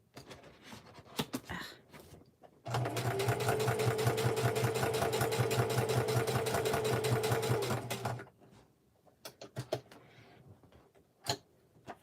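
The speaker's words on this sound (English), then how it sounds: "I'm going to backstitch this time." Sewing machine running steadily for about five seconds while backstitching a seam on a handmade journal, a dense mechanical whirring with rapid needle ticks, close and fairly loud, with quieter handling clicks before and after.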